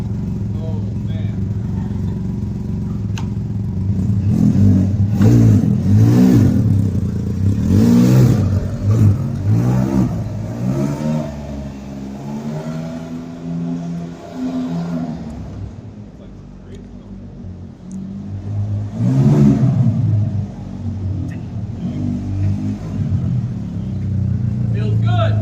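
Can-Am off-road vehicle spinning out on the Atlantic City beachfront, its engine revving in repeated loud surges and rumbling close by, with people talking over it.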